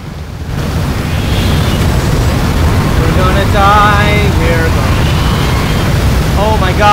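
A fire inside a prison in the Prison Architect video game, a loud continuous roaring rush with a voice talking over it.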